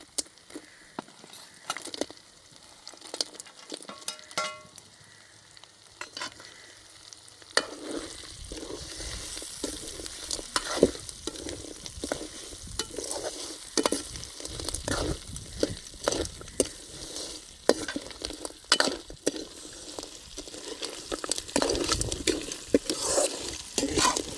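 Pre-fried field crabs being stirred into a ginger-garlic masala in a hot pan: a continuous oily sizzle broken by repeated scraping stirs, growing louder and denser partway through, with no talking.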